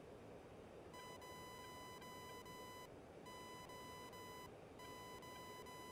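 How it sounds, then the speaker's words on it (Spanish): Warning tones in the DCS F-15 flight simulator: a steady high electronic beep sounds in long pulses separated by short gaps, over a constant roar of cockpit noise, fairly faint overall. "con los pitidos me vuelvo loco"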